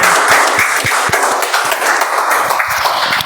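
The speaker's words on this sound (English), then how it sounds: "Please give a huge round of applause, ladies and gentlemen." Audience at a Toastmasters speech marathon meeting applauding a speaker called to the stage, loud mixed clapping with some distinct nearby claps standing out over the crowd.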